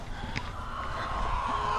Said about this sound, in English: So here's our chickens.